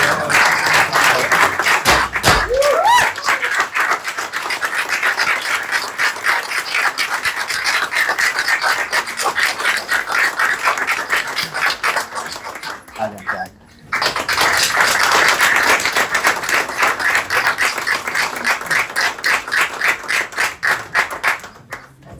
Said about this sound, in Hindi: चलें भाई, तालियां।